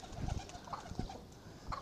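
Soft, low cooing from pigeons nearby, several throaty murmurs in a quiet setting.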